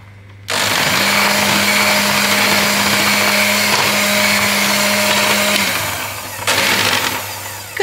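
An electric mixer beats apple-walnut cake batter just after baking powder goes in. A loud, steady motor whir runs for about five seconds, then winds down, followed by a brief clatter.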